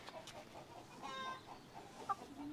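Brahma chickens cluck softly in a coop, several short repeated clucks and murmurs at an even, unhurried rhythm, faint and fairly close, with no talking over them.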